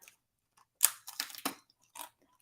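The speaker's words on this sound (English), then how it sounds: "can you hear they're crunchy?" Beef jerky crisps from People's Choice being bitten and chewed up close, several crisp crunches in a short burst, loud, with short silent pauses between them and no talking.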